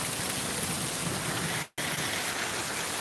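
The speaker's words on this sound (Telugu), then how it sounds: "వర్షపాతం ఇంకా ఎక్కువైంది" Heavy rain pours steadily in a loud, dense hiss, broken once by a split-second dropout before the downpour continues unchanged.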